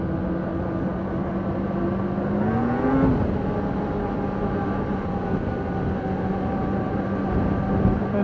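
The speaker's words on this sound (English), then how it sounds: "it sounds just kind of like your standard 2-stroke" A 2020 Polaris Switchback Assault 850 snowmobile's two-stroke engine drones steadily up close, its pitch climbing briefly around the middle before settling back into a continuous buzzing run.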